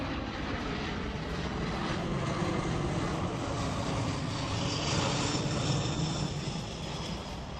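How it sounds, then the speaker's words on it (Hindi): A US Air Force C-17 Globemaster transport plane gives off a loud, steady engine roar that swells slightly midway and eases toward the end, with no voices. "अमेरिकी एयरफोर्स का C-17 ग्लोबमास्टर विमान अचानक रूस के एयरपोर्ट पर उतरा"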